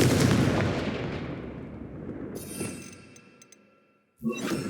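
A Confringo fire spell blasts in Hogwarts Legacy: a loud booming burst that rolls off and fades over about four seconds, followed by a sharp new impact at the end.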